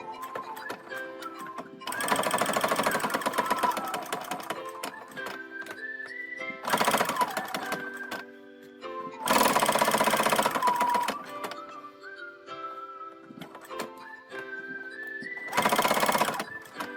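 A sewing machine stitches a wallet in bursts, loud rapid mechanical clatter in several runs of a second or two separated by pauses, with a whistling tune underneath.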